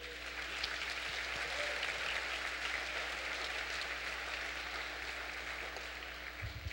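A church congregation at a Portuguese-language worship service applauds God, a quiet, distant wash of many hands clapping steadily over a low hum for several seconds.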